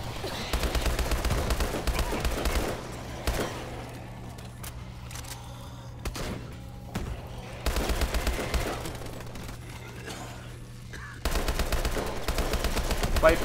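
Rapid automatic gunfire from Call of Duty Exo Zombies comes in dense bursts with quieter stretches between them, over a steady low game hum.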